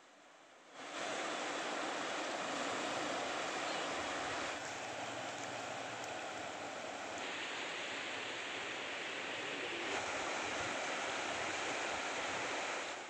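Steady, loud rushing of the Batang Gadis river current in full flow, a dense continuous roar that holds unbroken for about twelve seconds after a quiet start, with no voices.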